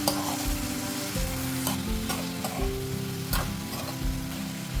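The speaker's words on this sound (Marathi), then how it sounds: "आता हे सर्व चांगलं आपण घाटून घेऊया" Cauliflower and potato pieces are stirred in a hot pan of curry, a close, steady sizzle with repeated scraping and clattering strokes of the spoon throughout, no talking.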